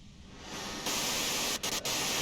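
Broadband white-noise static from the video game Disco Elysium, a steady hiss that swells louder partway through and cuts out briefly twice near the end.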